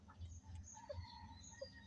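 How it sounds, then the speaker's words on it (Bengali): A hen clucks softly inside a coop while brooding duck eggs in a rural setting, low repeated clucks under faint higher chirps, close but quiet, ending in a sudden louder burst. "এই যে দেখেন কুয়ারের ভিতরে মুরগি"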